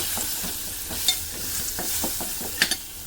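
Curry rice being stirred quickly with masala in a pan: soft continuous sizzle with repeated scraping strokes of a spoon and a few sharp clinks against the pan.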